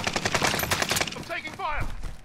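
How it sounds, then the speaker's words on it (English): A rapid burst of automatic gunfire in Call of Duty: Modern Warfare, loud and close, stuttering over about a second before a shouted voice cuts in over game noise. "I'm taking fire!"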